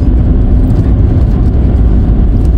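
Car driving along the Crowsnest Pass Highway near Fort Macleod, Alberta, heard from inside as a loud, constant low road and engine rumble with no voices.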